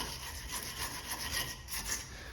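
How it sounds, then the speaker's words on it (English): Wire brush scrubbing rust and loose scale off a VW Golf front brake hub, a steady close rasping scrub with repeated back-and-forth strokes and no talk. "So you can start off with a wire brush to release all of the loose parts"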